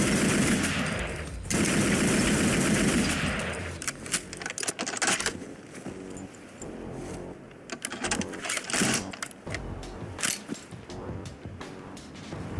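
Rapid rifle fire from a new weapon in Fallout 4 with the Fallout London mod, heard as loud, dense automatic bursts and single shots with mechanical clatter, broken by brief pauses.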